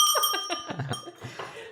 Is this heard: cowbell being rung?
yes